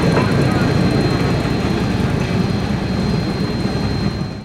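A narrow gauge speeder at a steam museum starts to move with a loud, steady low engine rumble and broadband roar that carry on evenly before cutting off at the end.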